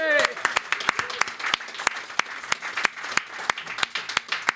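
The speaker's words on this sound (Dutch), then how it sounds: "mag ik een applaus voor Wim Hof?" A small audience applauds Wim Hof, the Iceman, with sparse, distinct claps ringing out at an irregular rhythm, fairly quiet, a brief voice heard at the very start.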